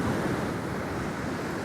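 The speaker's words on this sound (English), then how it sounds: "the wind will not let up" Strong wind roars over crashing ocean surf at the shore, a dense, steady wash of noise with wind buffeting the microphone and no voices.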